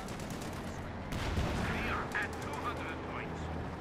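.50 caliber machine gun fire from a Sherman tank in the Company of Heroes 2 game, heard as a steady, dense rattle of bursts in a busy battle mix, with other effects layered over it.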